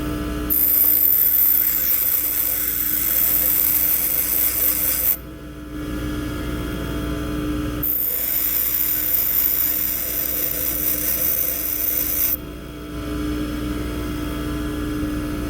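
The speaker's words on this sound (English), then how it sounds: "Now I can grind the small angle and compare it with the center gauge." Lathe threading tool being ground on a grinder: a loud, steady abrasive rasp held in two long passes, each cutting off abruptly with a short quieter gap between them, a constant motor whine underneath.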